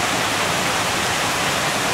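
Water rushes steadily near a cave on Hanging Lake Trail, a loud, dense, unbroken roar like a nearby waterfall or fast stream, with no voices.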